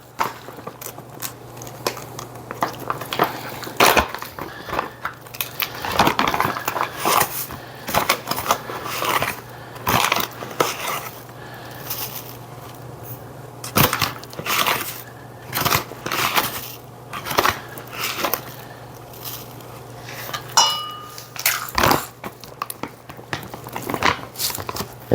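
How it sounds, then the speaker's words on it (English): Celery seed being ground by hand, probably with a mortar and pestle, while making bratwurst: a long run of close, dry crunching and gritty grinding strokes in an irregular rhythm, with no talking. "we might as well grind the celery seed, even though it won't grind"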